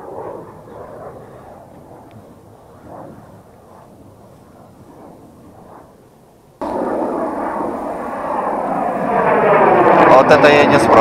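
A fighter jet circles low over a reservoir, at first a distant rumble under talking, then a sudden loud, roaring jet noise that swells and grows harsher as it passes close overhead.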